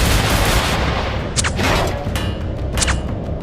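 Musket volley fire in the Guts & Blackpowder game, a dense rolling crackle of many shots at once followed by a few sharp separate reports, loud and close.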